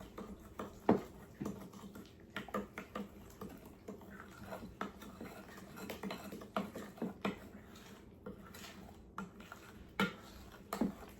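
Pumpkin tart filling is mixed in a bowl, producing a quiet, irregular series of utensil taps and scrapes against the bowl.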